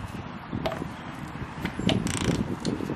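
Ratchet of an ICON flex head torque wrench with a fine 90-tooth mechanism, giving quiet, rapid, even clicking up close with a few sharper ticks, heard alone without talk.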